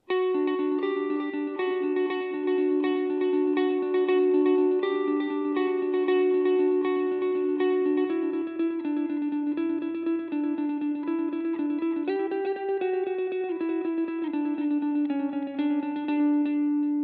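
A Telecaster electric guitar played through its neck pickup with distortion and overdrive, sustaining thick held notes and bends in a smooth lead line with steady loudness and no talking.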